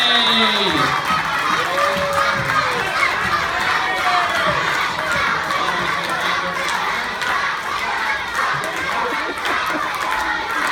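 Loud, sustained cheering from a school assembly crowd of young children urging on a contestant, with shouts and excited chatter blending into a continuous roar and a few high voices rising above.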